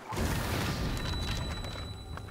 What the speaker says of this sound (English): That's a massive explosion.